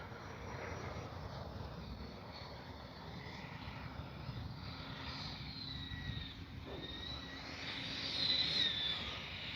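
A Freewing MiG-29 Fulcrum 80mm RC jet comes in to land, its ducted-fan whine a steady, fairly distant roar that swells slightly near the end, with no talk over it.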